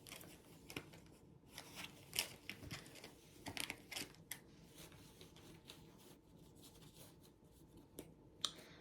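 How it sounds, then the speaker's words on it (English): Tarot cards being shuffled by hand at close range: soft, faint papery riffles and scattered sharp flicks over a quiet background, with no talking. "Just shuffling right now"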